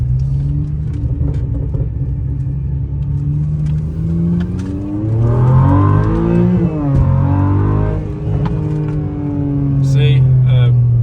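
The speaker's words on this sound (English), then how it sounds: "I just floored it right there, and it just got right out of that curve really quick" A 200k-mile BMW 528i accelerating hard out of a curve, its engine rumbling steadily then rising in a revving sweep before settling, loud and near, with a person talking over it.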